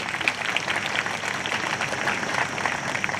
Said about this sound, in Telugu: అందరూ ఒకసారి గట్టిగా చప్పట్లు కొట్టండి.